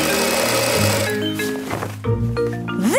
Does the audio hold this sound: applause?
no